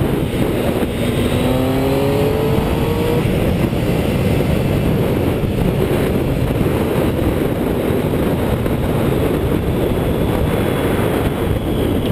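A 2012 Triumph Street Triple R 675 motorcycle rides along a river, with a loud, close engine note and steady wind rush that holds continuously for the whole stretch.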